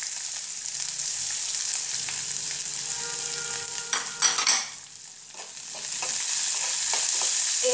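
Chopped onion and curry leaves sauté in a pan over roasted lentils, giving a loud, even sizzle up close. A brief burst of stirring scrapes comes midway, then the hiss briefly dips before resuming, with no voices.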